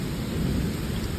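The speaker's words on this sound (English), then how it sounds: "A roll of thunder, some wind." Thunder rolls in a low, continuous rumble during a Kansas storm, mixed with steady rain and wind noise, loud and unbroken throughout the short stretch.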